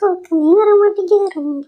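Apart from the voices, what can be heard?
No everyday noises stand out.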